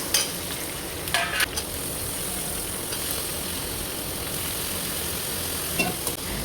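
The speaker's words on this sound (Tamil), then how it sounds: "கூடவே அரிஞ்சு வச்சுருக்க காய் எல்லாத்தையும் போட்டு வதக்க ஆரம்பிச்சிருவோம்" Vegetables sizzle and hiss in a hot oiled pan, a steady close frying noise with a few brief scraping stirs.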